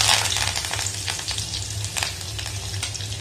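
Shallots, garlic and curry leaves sizzle steadily in hot oil with mustard seeds for a chutney, with crackling pops and occasional stirring over a constant frying hiss.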